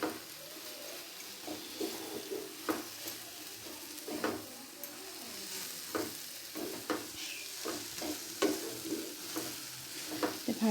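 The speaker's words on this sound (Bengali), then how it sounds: "এবার এটাকে আবার একটু ভালো করে নেড়ে মিশিয়ে দেব" Spiced vegetable filling for veg rolls, seasoned with cumin powder, is stirred in a sizzling pan, with repeated rhythmic scrapes and clacks of the spatula over a soft continuous fry.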